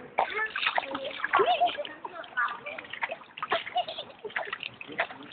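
Water splashing and sloshing as a small child is bathed in a tub, with steady close splashes running under a voice and a child's chatter.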